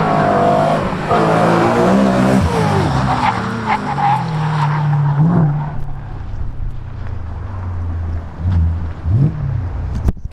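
A stock BMW E92 M3 with its V8 engine and exhaust pulls hard, loud and close, with rising revs and a sharp tire-like squeal midway before the engine note fades toward the end.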